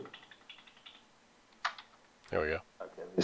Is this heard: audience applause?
no